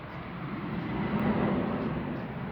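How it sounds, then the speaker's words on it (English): An American Airlines plane on approach to land under overcast, bad weather, a steady low broadband roar of jet engine noise that holds constant and fairly loud throughout, with no talking. "My plane coming into Crummy."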